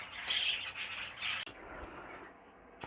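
Young birds squawk and chirp in holding cages and nursery flights, a burst of shrill calls up front easing into quieter scattered chirps, close and fairly soft, with no one speaking.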